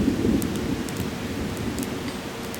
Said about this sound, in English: that storm is popping right there